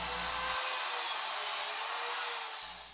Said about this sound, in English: I move over to the miter saw where I cut my 45-degree miter cuts